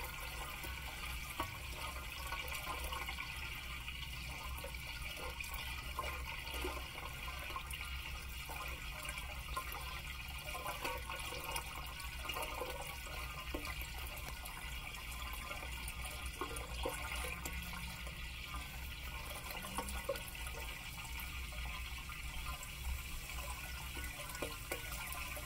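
Water backs up in a septic tank with a clogged filter, giving a steady rushing, gurgling wash that runs unbroken at an even level throughout, with no voices.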